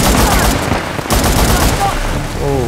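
Rapid bursts of gunfire from a video game fill the whole stretch, loud and dense with a heavy crack near the middle, running on a PC with a GeForce GTX 1660 Super.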